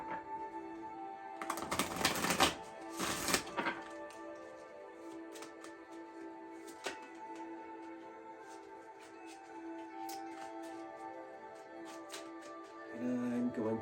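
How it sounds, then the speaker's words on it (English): Tarot cards shuffled by hand, two bursts of riffling and rustling near the start, then quieter card handling over a steady background music drone. "So now we will give the cards a shuffle."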